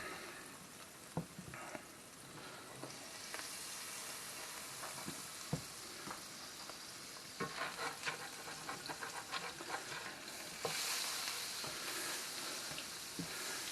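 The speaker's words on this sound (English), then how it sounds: "Get that butter all melted up here." Butter melting and sizzling in a hot pan before eggs go in for an early-morning breakfast, a close, steady crackling hiss with scattered pops and stirring scrapes, growing a little louder near the end.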